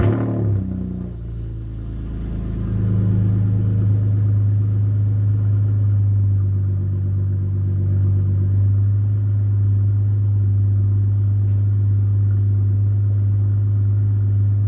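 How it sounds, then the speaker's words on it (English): BMW E46 with a Vibrant resonator exhaust cold-starting, then settling into a loud, steady low rumble with a couple of brief revs, close and alone with no talk. "We're gonna do a cold start. Should be a little quieter, a little less rasp. We'll do a couple revs and we'll see what it sounds like."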